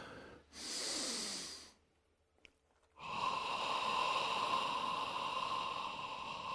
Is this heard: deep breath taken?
yes